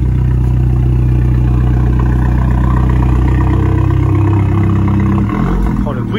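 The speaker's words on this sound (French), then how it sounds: "J'adore le bruit des Abarth." Abarth 595C Competizione with the 180 hp engine running close by, a loud steady low idle rumble throughout, with a brief change in tone near the end.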